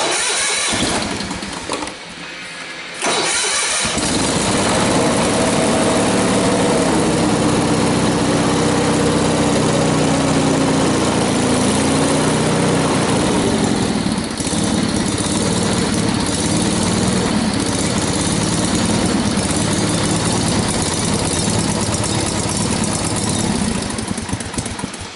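A small engine sputters and catches on choke after a brief pause, then runs steadily at a loud, buzzy idle that continues to the end.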